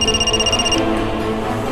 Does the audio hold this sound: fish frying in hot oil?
no